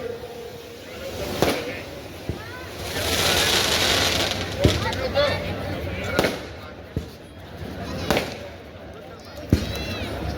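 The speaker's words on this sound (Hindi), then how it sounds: "ये आतिशबाजी आप देख रहे हैं" Fireworks burst and crackle in a series of sharp pops against a noisy outdoor crowd at a public event in Kaithoon, India, some bangs loud and close, others fainter.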